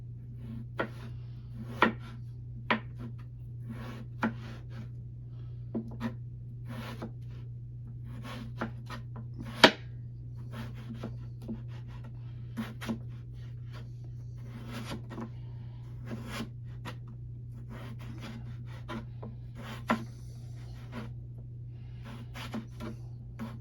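A knife cuts a potato in half and then slices it on a board, making a series of quiet, irregular taps and thuds over a steady low hum, with one sharper knock partway through.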